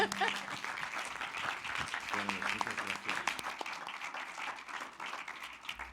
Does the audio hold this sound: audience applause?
yes